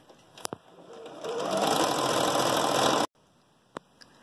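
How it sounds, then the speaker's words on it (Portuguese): Sewing machine stitching a seam around a 3D fabric face mask, a loud steady mechanical whir that runs for about a second and a half, then stops abruptly, with a few light clicks before and after. "nós vamos passar uma costura largura do calcadinho. E vamos fazer isso em toda a volta de nossa máscara"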